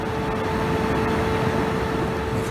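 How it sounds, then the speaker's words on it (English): A Vespa GTS scooter's radiator cooling fan runs after the engine warms up, giving a steady, close whirring hum with a constant tonal whine over broadband rushing noise and no change throughout. "the fan has just kicked in"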